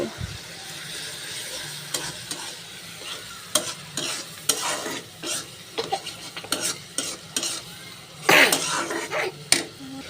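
Tomato being stirred into fish curry in a frying pan, with a steady sizzle under repeated scraping and clinking strokes of a utensil, close and moderately loud, and a short louder burst of stirring near the end.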